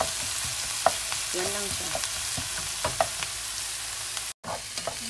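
Bottled spaghetti sauce fries in a pan with a steady close sizzle and scattered pops, while a spoon occasionally clinks and stirs and a voice speaks briefly; the sound cuts out for a moment near the end.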